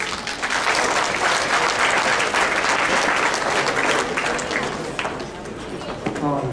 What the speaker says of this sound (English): Give a round of applause to him.